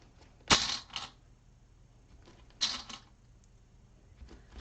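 Metal sewing clips snapping shut as the exterior and lining of a fabric bag are matched and clipped together, two sharp clicks about two seconds apart, close and clear in a quiet room.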